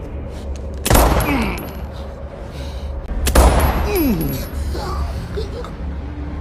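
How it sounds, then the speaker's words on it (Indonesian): Gunfire in a movie fight scene from Outside the Wire, two sharp loud shots a couple of seconds apart, each followed by a ringing metallic tail, over a low background rumble. "Walaupun sudah ditembak berulang kali, Leo tidak terkalahkan."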